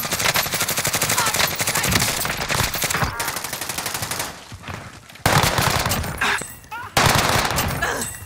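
Dense automatic gunfire and rapid shots in a first-person shooter video game, loud and continuous with brief lulls, bursts stacking over one another throughout.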